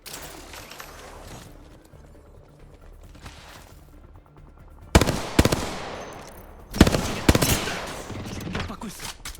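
Gunfire in the video game Apex Legends: after a quiet stretch of low background noise, two loud, close bursts of rapid shots crack out, each followed by a ringing tail.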